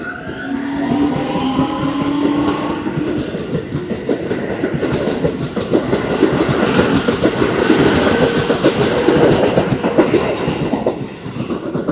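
A local stopping train pulling out of a Japanese station, loud rumbling wheels with rhythmic clickety-clack over rail joints, brief rising squeals early on, heard close and continuous as it rolls away, no talk.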